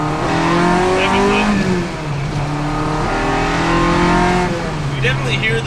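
Honda engine revving up into VTEC from inside the car, a loud steady rise in engine pitch as it climbs the revs, with a brief dip from a gear shift.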